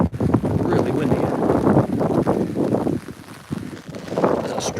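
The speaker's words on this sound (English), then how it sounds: "Really windy." Strong gusty storm wind roars and buffets the microphone in uneven surges on a hilltop walk, loud and close throughout.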